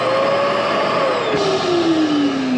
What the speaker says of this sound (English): As well as vacuum system.